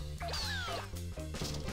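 Cartoonish cat meows from Katamari Damacy Reroll, two or three rising, stretched cries over busy, bouncy game music, loud and close.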